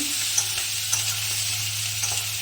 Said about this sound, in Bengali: এবার একটুখানি ভালো করে একটুখানি ভেজে নেব